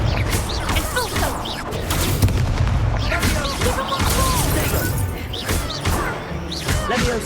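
Spell combat in the video game Hogwarts Legacy, with the Expulso spell setting off repeated blasts: a dense, continuous stream of booms, thuds and crashing impacts layered with whooshing magic effects, loud and close throughout.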